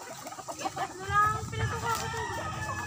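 Fighting cocks and hens at a game-fowl farm crow and cluck in drawn-out calls, with a person talking nearby over the birds.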